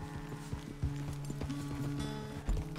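Horse hooves clip-clopping in Red Dead Redemption 2, a steady walking rhythm of close, distinct hoof strikes with a faint background hum.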